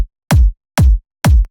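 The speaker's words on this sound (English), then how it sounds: "Start with a nice kick, like punchy kick." Three punchy kick drum hits in a bass house track, evenly spaced with brief silences between, each a deep booming thump with a sharp click at the start.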